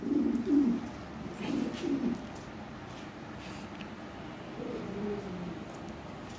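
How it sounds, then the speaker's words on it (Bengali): Low, soft cooing from a pair of blue bar Lahori pigeons, a few rounded coos in bursts at the start and again later, fairly close but quiet, with no talk over it. "এখানে এক জোড়া ব্লু বার লাহরি আছে।"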